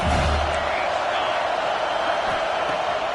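Home stadium crowd at a football game roaring loudly in a dense, continuous wash of noise, with a brief low thump near the start.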